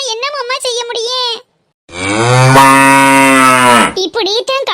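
A cartoon cow moos in one long, loud, drawn-out call that rises and falls, set between bursts of excited high-pitched cartoon voices talking before and after.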